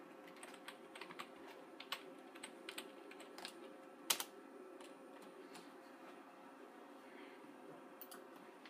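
Password typed on a computer keyboard during a Mac OS 10.5 Leopard setup on an iMac G4: quiet, irregular key clicks spread through the stretch, with one sharper tap near the middle and no talking.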